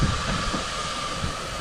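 A train rumbles steadily nearby with a constant mechanical drone and a faint high whine, no voices present.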